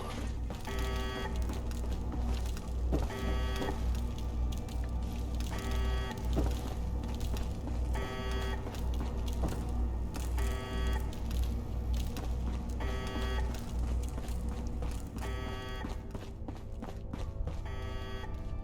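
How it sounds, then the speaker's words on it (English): An alarm sounds in the video game Fallout London, a repeating electronic tone pattern cycling every couple of seconds over steady game ambience. "Kinda wish we could turn off that alarm."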